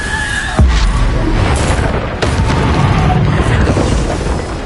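Bombarda spell blasts in the video game Hogwarts Legacy land as two sharp, loud booms about a second and a half apart, over a thick, constant rumble of battle noise.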